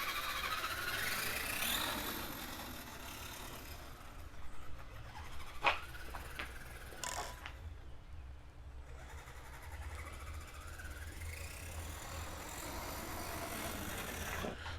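A Redcat Everest 10 RC car with an upgraded gearbox and motor runs steadily close by, giving a continuous mechanical whir and drive-train hum with a few brief squeals and clicks partway through.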